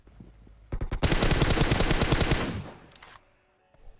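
Automatic gunfire in the mobile battle royale game PUBG Mobile, with the Groza assault rifle in play: one loud, dense burst of rapid shots lasting about two seconds, preceded by a few separate shots and trailing off into quieter distant fire.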